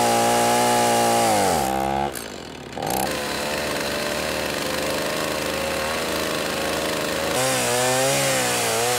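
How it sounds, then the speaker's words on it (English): A chainsaw cuts into a wooden pergola beam, its loud engine whining at high revs, dropping and bogging briefly as the chain bites, then screaming steadily through the wood before revving back up. "easiest way for me to cut it is going to be a chainsaw"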